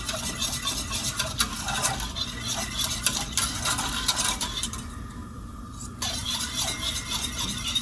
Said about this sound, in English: we're just going to keep stirring it until it gets to hot enough